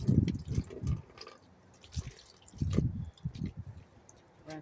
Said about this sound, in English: I'm going to rinse my hands in this bucket.